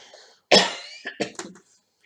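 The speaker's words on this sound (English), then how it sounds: "I still have this cough." One sharp, loud cough close to the microphone, followed by a few smaller, raspy coughs in quick succession, then quiet.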